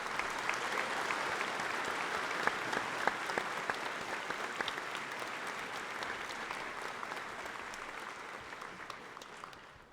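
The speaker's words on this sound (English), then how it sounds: "If we could have a round of applause for all the students." Sustained audience applause at a high school senior assembly honoring students, a dense wash of many hands clapping that holds steady for several seconds and then slowly tapers off.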